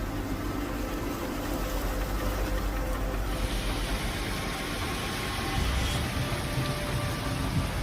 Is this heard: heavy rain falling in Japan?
yes